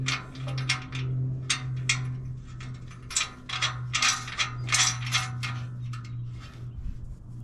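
A hand ratchet clicks in short bursts while nuts with washers and lock washers are tightened onto Jeep JK bumper bolts, with close metallic ratcheting over a low steady hum.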